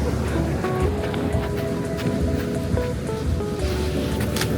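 A mountain river at high elevation rushes loudly and continuously, a dense broadband wash of flowing water filling the whole few seconds with no talk over it.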